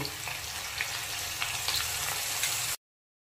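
Water-mixed spice paste hits frying vegetables for a hilsa fish curry with a sharp, continuous sizzle and a few stirring clicks, cutting off abruptly after about three seconds.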